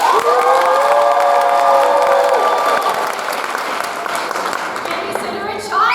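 A high school audience at an improv performance applauds and cheers loudly, dense clapping mixed with whoops, shouts and vocal tones, continuous and close throughout.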